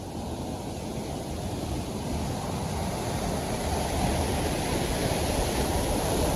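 Continuous rushing water from Kanchan Waterfall in the Sahyadri hills, Junnar, a dense steady roar with no pauses, heard close and fairly loud.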